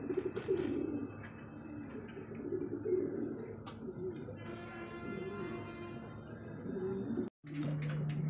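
A pair of Mondain pigeons, the male a red indigo, coo softly in a wholesale pigeon loft, making faint, low, repeated rolling calls against a hushed background with a brief dropout near the end.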